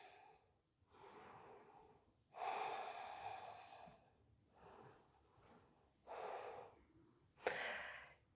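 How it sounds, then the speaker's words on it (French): Slow, calm breathing during a yoga session: several audible inhales and exhales in a relaxed rhythm, close and fairly soft, with no talking. "On respire calmement."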